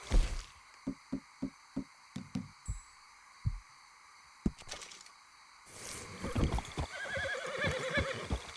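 Video game horse: a series of hoof clip-clops tapping out a steady rhythm, then a loud, close whinny and snorting toward the end, with no talk.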